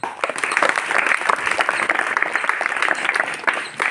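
An audience at a school event applauds, giving loud, dense, steady clapping from many hands close by, sustained throughout with light voices mixed in.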